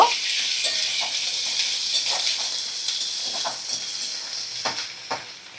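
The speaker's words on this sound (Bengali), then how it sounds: "এবার আমি 1 চামচ আদা রসুন বাটা দিয়ে দিলাম। 2 মিনিট একটু নাড়াচাড়া করে নেব।" Salt and ginger-garlic paste stirred and fried in a pan while cooking fasa fish: a continuous close sizzle with repeated soft scraping strokes of a spoon against the pan.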